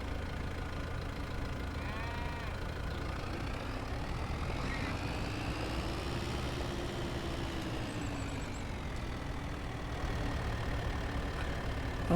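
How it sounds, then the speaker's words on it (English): A small tractor engine with a mulcher attached runs steadily near the listener, a continuous chugging drone with a slight knock that swells in the middle and holds through the end. "Let's see what our little tractor will do."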